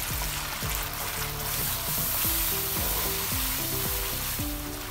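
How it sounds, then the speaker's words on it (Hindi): Ground spices, coriander, red chilli, turmeric and salt, sizzle loudly in a pan over medium-high flame for egg curry, with a spatula stirring and scraping in repeated strokes throughout. "भुनाई कर लेंगे तकरीबन 1 मिनट के लिए मीडियम टू हाई फ्लेम पर"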